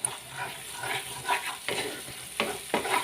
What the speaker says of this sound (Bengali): সামান্য 1-2 মিনিট নাড়লেই মশলাটা কষা হয়ে যাবে